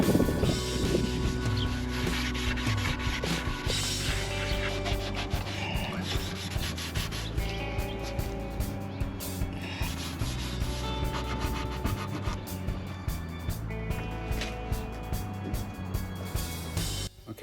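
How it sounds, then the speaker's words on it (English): Continuous abrasive rubbing of sanding old stain off wood, steady and fairly loud, with a rhythmic scratchy texture and no voices. "Then we moved on to sanding it all smooth to remove the old stain"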